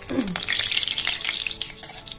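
Oil heating in a wok (kadai) for masoor dal khichuri gives off a steady, close hiss that fills the whole stretch without a break.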